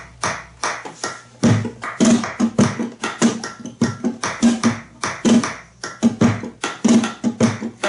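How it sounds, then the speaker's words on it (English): Steady, looping udu drum pattern from the acompas.org flamenco metronome: close, dry hollow taps with deep resonant thumps in a brisk, regular rhythm, with no voices. "And then we have here also this udu thing."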